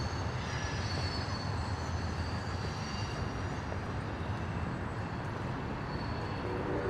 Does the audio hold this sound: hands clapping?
no